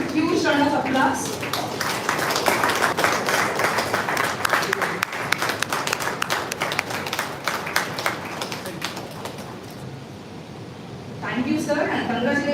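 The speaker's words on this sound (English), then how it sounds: "Let's give him a huge round of applause." An award-ceremony audience claps for the Sir J.C. Bose Memorial Award presentation: a long, dense, fairly loud round of applause that fades after about ten seconds before a voice starts speaking.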